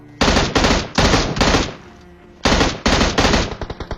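M16 rifle fire in Battlegrounds Mobile India, loud close automatic bursts: two long bursts, a pause, then three more bursts ending in a few quick single shots.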